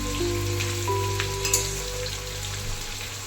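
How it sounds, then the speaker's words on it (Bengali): Chicken fries with onions in a pan over a high flame, a continuous crackling sizzle over a steady low hum, with a few brief pops. "এই অবস্থাতে চিকেনটা ভালো করে ভেজে নেবে পেঁয়াজের সঙ্গে"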